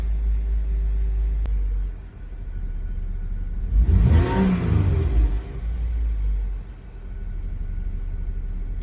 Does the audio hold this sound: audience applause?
no